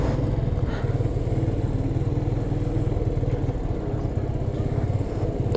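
A motorcycle engine runs steadily nearby with a loud, throbbing idle that stays constant throughout, with faint background voices.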